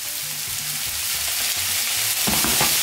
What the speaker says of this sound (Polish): W tle słyszycie smażące się warzywa.